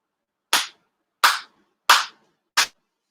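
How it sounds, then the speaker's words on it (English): Four single ritual handclaps at a Konkō shrine ceremony, sharp, close and evenly spaced about two-thirds of a second apart, each followed by silence. "4 sincere claps."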